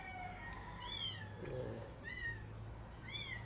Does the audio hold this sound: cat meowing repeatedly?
yes